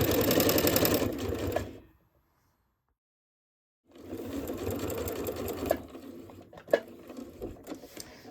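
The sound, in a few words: sewing machine stitching fabric, backstitching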